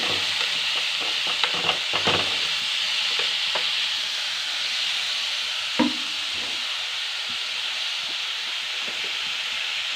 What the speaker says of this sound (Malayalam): വെളിച്ചെണ്ണ വെച്ച് ഉള്ളി വാടാൻ വെച്ചിട്ടുണ്ട്